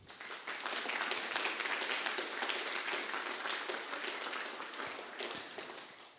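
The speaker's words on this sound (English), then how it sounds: "they deserve the first round of applause of the day" A conference audience applauds Ukrainian colleagues, a steady wash of many hands clapping at moderate distance that tapers off with a few last claps.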